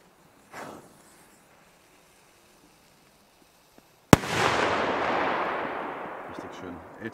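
A Polish firecracker, the Tropic Exploder 4, goes off with a single sharp, loud bang followed by a long crackling, hissing burst that slowly fades, preceded by a faint earlier pop in otherwise quiet open air.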